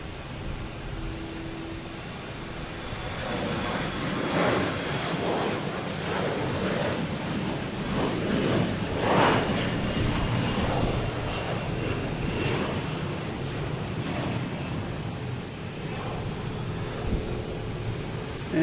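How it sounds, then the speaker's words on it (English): An airliner takes off at night at Boston Logan Airport, its engines giving a loud, continuous jet roar that swells slightly midway and holds steady, with no voices over it. "These takeoffs tonight are beautiful."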